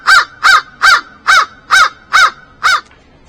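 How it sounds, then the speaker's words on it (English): A crow caws seven times in a steady, evenly spaced series, loud and close, each call harsh and nasal, with no talk; it is perched on the ground near a decoy. "This crow is flicking its tail a lot."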